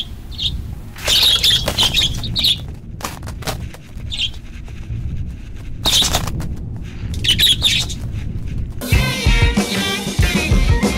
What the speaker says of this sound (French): mettre une petite GoPro sur un moineau